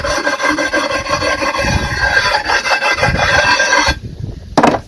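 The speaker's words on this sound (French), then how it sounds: "Et après on vient un petit peu limer les côtés." A wet sharpening stone rasps along the edges of a pool terrace paving slab in steady, close, gritty strokes, then cuts off near the end before a brief final scrape.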